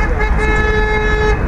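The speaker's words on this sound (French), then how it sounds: "les gens qui klaxonnent" Car horns honk at a gilets jaunes street protest in Auxerre, Yonne, a loud sustained blare held over rumbling traffic with a voice briefly mixed in.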